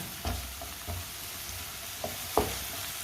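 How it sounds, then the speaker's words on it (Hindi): Spices for a mooli (radish) dish fry gently in a pan over low heat, a soft steady sizzle broken by a few stirring scrapes and taps, close by with no talk. "मसालों को 1 मिनट के लिए पका लेंगे।"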